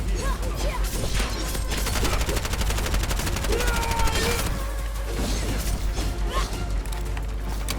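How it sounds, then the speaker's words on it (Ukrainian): Rapid automatic gunfire from the sci-fi shooter game Bright Memory: Infinite, sprayed in dense, loud bursts over several seconds alongside mechanical clatter and impacts. "Так, просто у розброс стріляємо, просто у розброс."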